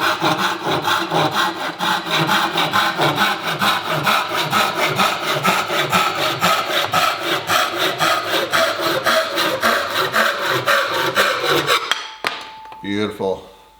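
A hand saw cuts through wood clamped in a Wilton 4x10 pivot jaw workbench vise, giving a loud, even back-and-forth rasp of about fifty strokes before it stops, followed by a few light knocks.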